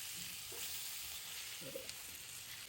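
Chicharron with tomato, onion and garlic sizzles faintly in a pan, a soft steady frying hiss with a couple of light stirring scrapes.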